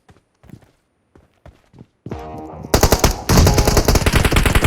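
Gunfire in the mobile battle-royale game PUBG Mobile: a few faint clicks and steps, then loud, sustained automatic-weapon bursts that rattle on continuously to the end.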